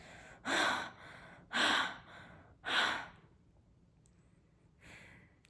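Several sharp, breathy exhales in a steady rhythm, then a pause and one more. Close and fairly loud, with no talking.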